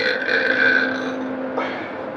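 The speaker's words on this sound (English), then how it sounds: "I can really burp when I have apple drinks." A long, loud, close-up burp after an apple drink, a single drawn-out croaking belch that sustains for about a second and a half before trailing off with a brief second gurgle.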